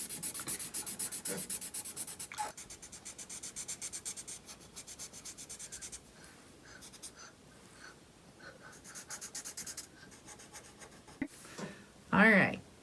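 Marker or pencil rubbing and scratching across paper while shapes are drawn and filled in for a simple mitten-themed art lesson, steady strokes continuing for several seconds, with a voice or soft speech in the background and a louder burst near the end.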